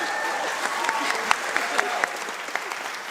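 Audience applause at the 2026 AACTA Awards ceremony, a dense, steady wash of many hands clapping throughout, with a few sharper claps standing out near the front.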